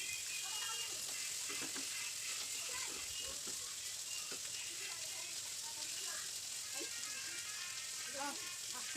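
Prawns fry in a pan with a continuous bright sizzling hiss and scattered pops and spits, steady and close throughout, with no talk over it.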